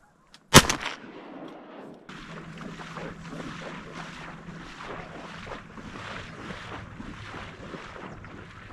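A single loud shotgun blast cracks out near the start while duck hunting in the Idaho mountains, followed by steady wind or water background with faint calls.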